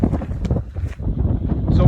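Strong wind buffets the microphone on an open, exposed mountain ridge line along the Appalachian Trail between Rangeley and Stratton, a loud, continuous rumbling roar that swells and dips unevenly throughout.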